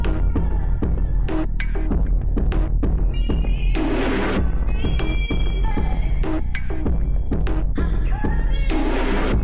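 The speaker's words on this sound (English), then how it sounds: "I actually grabbed this drum loop from Splice." A drum loop plays on its own, loud and punchy, with deep booming kicks, sharp broadband hits and bursts of noisy texture repeating in a steady groove.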